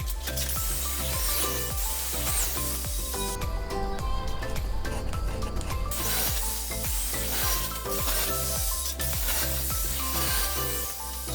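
Small square metal tubes are cut for a workbench in a workshop, a rapid rasping, scraping cut with rhythmic strokes, fairly close and steady.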